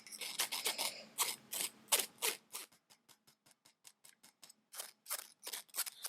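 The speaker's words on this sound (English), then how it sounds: "You really want to take the time to push the egg yolks through the sieve" Cooked egg yolks are pressed through a mesh sieve for biscuit dough, giving close, crisp scraping and rasping strokes in an irregular rhythm, some rapid and light, others longer and louder.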